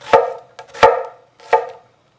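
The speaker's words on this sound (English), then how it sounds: "Next, we're going to chop half an onion." A knife chops through half an onion on a cutting board in three sharp, close knocks with a lighter tap in between, spaced about evenly and followed by quiet.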